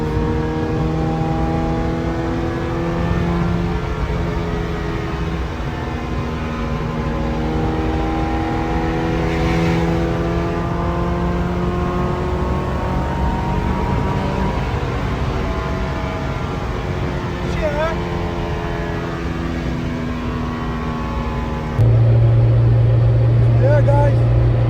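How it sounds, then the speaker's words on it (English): A loud Honda Civic EG sedan engine revving steadily near the microphone, with a sustained droning tone and a sudden louder shift in the final seconds. "It's running good now, but I mean, I just so fucking loud."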